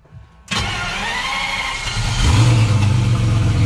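A Traction V12 bi-turbo engine cranks and catches, bursting into a loud, close rumble that settles briefly and then swells into a deeper, heavier idle.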